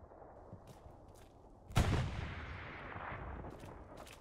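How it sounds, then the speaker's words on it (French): A heavy artillery cannon booms once in Hell Let Loose, a sharp loud blast that rolls into a long fading rumble, with faint distant gunshots scattered before and after. "Il y a l'autre artillerie qui tire en face."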